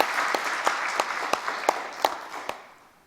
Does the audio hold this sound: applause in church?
yes